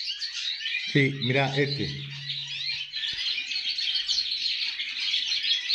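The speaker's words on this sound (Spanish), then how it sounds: "está copiando al otro canario, por lo que está volviendo a copiar el jilguero" A canary sings a goldfinch-like song, a bright continuous stream of rapid twittering trills and chirps from start to finish, with a brief spoken remark in a voice partway through.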